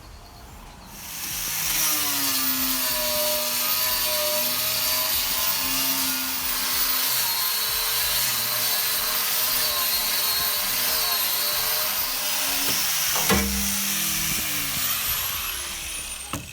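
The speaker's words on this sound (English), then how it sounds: "Got the angle grinder out." An angle grinder whines continuously at high pitch against a steel narrowboat hull, loud and close, its tone wavering as pressure shifts, with a brief clank near the end.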